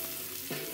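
Steak chow mein stir fry sizzling steadily in a hot pan, a continuous close hiss that swells with a fresh burst of frying partway through.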